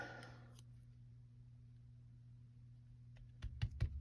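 A blade slices through polymer clay, giving a few short, crisp clicks close by near the end after a stretch of near silence over a low hum.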